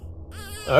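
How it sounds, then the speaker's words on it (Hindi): A baby cries during a Hindi horror story, a brief wail that swells louder toward the end after a quieter opening. "कहीं बच्चा रो रहा है?"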